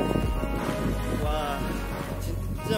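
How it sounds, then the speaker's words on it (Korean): Wind gusts outdoors in spring near Pocheon's Uncheon area, a steady broad rushing and buffeting against the microphone, continuous and fairly loud, with a faint low hum beneath. "바람이 불어갖고 머리가 자꾸 넘어간다."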